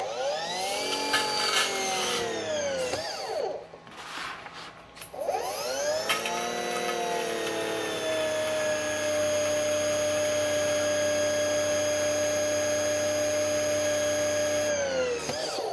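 An EGO 56V battery-powered pressure washer rated 3200 PSI whines up to speed, dips briefly, then spins back up into a steady, loud, close mechanical drone.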